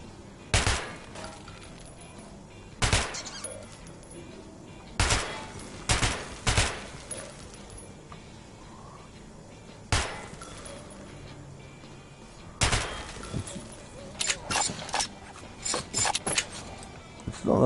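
A weapon fires in the Metro video game as a series of sharp, loud single shots spaced a few seconds apart, then a faster cluster near the end, over quiet background rustle.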